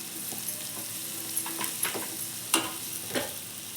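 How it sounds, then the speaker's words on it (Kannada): Beans and cabbage fry in a pan with a soft, quiet sizzle, broken by a few light stirring scrapes and taps. "ಇದನ್ನೆಲ್ಲ ಸ್ವಲ್ಪ ಹೊತ್ತು ಹುರ್ಕೊಳ್ಳಿ. ಇದೆಲ್ಲ ಸ್ವಲ್ಪ ಹೊತ್ತು ಬಾಡಲಿ, ಬೇಯಲಿ."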